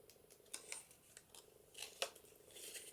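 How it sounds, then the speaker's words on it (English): Scissors snipping the corners off cardstock for a papercraft pocket page, a few quiet crisp cuts spaced through the moment, close and alone with no talk. "let's cut those corners off"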